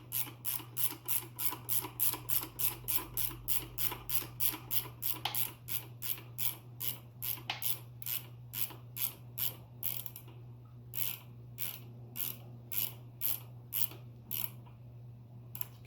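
Socket wrench ratcheting on a front suspension stud of a 1987 Chevy S10 pickup, a long run of rapid, regular close clicks, pausing briefly before resuming more slowly over a low hum.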